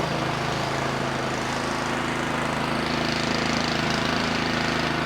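A Craftsman 24-inch snow blower engine runs steadily close by, a loud, continuous rough putter with a mechanical chug, heard alone.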